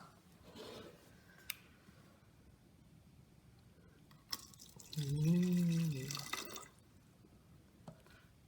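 Water is poured into a bottle for a bottle craft, a short gurgling fill lasting about a second after scattered small clicks and drips, with a brief exclamation from a voice.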